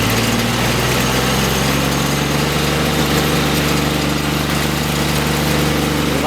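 A Darley AGE fire pump engine runs loud and steady at high RPM during a pump test, a continuous close mechanical drone with no pauses and no voices.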